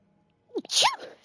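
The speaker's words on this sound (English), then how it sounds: "I want to sneeze." A single person's sneeze, a quick sharp intake followed by a loud burst, heard up close and alone after a quiet moment.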